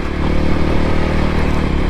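Voge 300 Rally motorcycle pulling under power in low gear up a gentle slope, a loud, close, steady throbbing engine drone with rumbling exhaust and wind, no voices.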